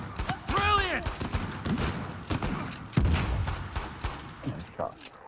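Gunfire in the video game Uncharted crackles in rapid bursts and scattered single shots, with a voice speaking over the exchange.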